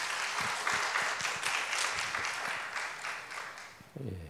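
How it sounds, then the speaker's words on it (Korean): Church congregation applauding, a dense burst of many hands clapping that holds steady and then tapers, with a voice beginning to speak just as it ends. "감사의 박수 좀 부탁드리겠습니다"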